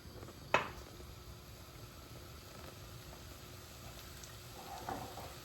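Mushrooms salted and cooking down in a pan, a faint steady sizzle and hiss running throughout, with a sharp clink near the start and another soft knock later.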